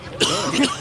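A single short cough at an outdoor EPCOT food stop, close and brief, over light background noise.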